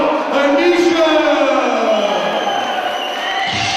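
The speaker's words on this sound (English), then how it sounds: "A big cheer there for Rob Neesham" Crowd cheering loudly for fighter Rob Neesham as he enters the ring at FX3 Fight Night 3, a sustained roar with a voice talking through it.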